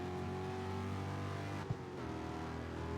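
A steady, loud Audi RS6 engine drone in a video game with layered harmonic tones, a brief thump partway through, then the engine continues evenly.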